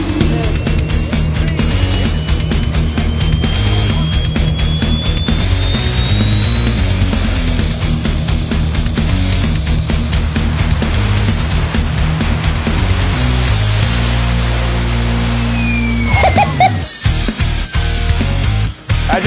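A small jet engine spins up for ignition, a steady loud whine and rumble with a rising high tone, then stutters and pops near the end as it lights, close and with no voices.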